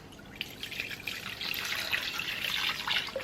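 Water pours into a soup pot, a steady splashing stream that swells slightly as the pour goes on, close and fairly quiet with no voices.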